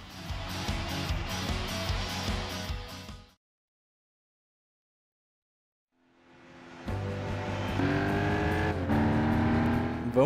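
Nissan Skyline and Honda CRX race cars accelerate in Gran Turismo 6 during a Clubman Cup race on a narrow track. Loud engine roar cuts to about three seconds of silence, then returns, revving upward with rising, whining pitch.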